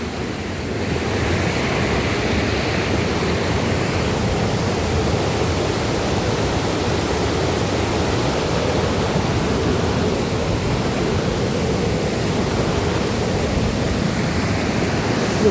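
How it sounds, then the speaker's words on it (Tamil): Water rushes at Kanthaloor waterfall in a loud, unbroken roar that stays constant throughout, heard up close, with some wind buffeting the microphone. "இதுதாங்க காந்தலூர் வாட்டர் ஃபால்ஸ், பார்த்துக்கோங்க."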